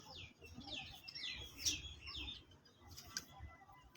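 Pigeons in a breeder's loft in Rawalpindi give soft, faint calls and chirps, a few brief notes scattered over a quiet, low background rumble.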